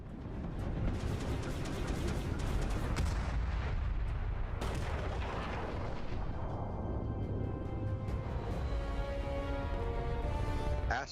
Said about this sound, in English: Firing at other ships